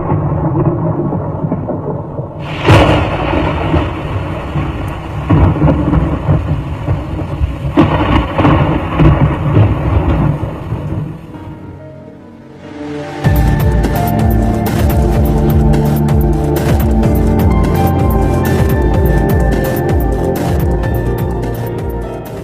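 Heavy thunderstorm over Brisbane in the evening, with dense lightning activity: loud, continuous rumbling thunder with sharp cracks, shifting into a steady roar of heavy rain mixed with thunder in the second half, no voices.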